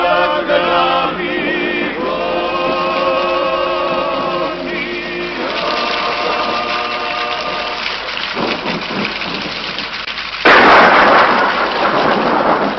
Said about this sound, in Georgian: წვიმა არ გადაიღებს